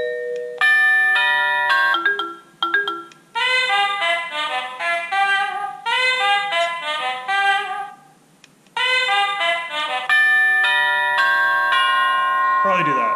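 A Honeywell 3 Series wireless doorbell cycling through melodic electronic chime tunes, loud and close, with short pauses between the different tones.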